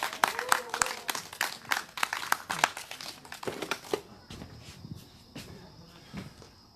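Scattered clapping from an outdoor crowd at a candlelight rally against a THAAD missile deployment in Seongju, sharp uneven claps with rustling for several seconds before fading to quiet.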